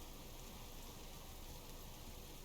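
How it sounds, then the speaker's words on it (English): Steady rain falls in the survival game Subsistence, a constant, fairly faint hiss and patter that holds evenly throughout with no voices. "It's so yucky when it's raining."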